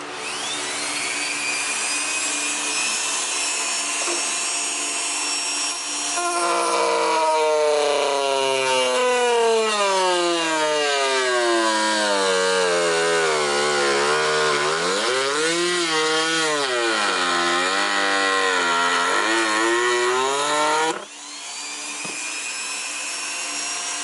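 A power tool cuts plastic trim near the splitter rod on a car during an IRP short shifter install. A steady whine rises and falls in pitch with the load for about fifteen seconds, with idle running before and after.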